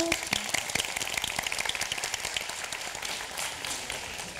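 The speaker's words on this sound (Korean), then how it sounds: "박수 한번 칠까요?" Audience at a Korean high school reading-and-debate championship final claps in a dense, steady wash of overlapping hand claps lasting several seconds, with a few sharper individual claps near the start.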